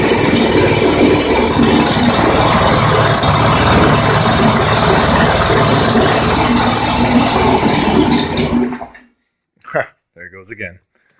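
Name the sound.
12-volt generator motor running roughly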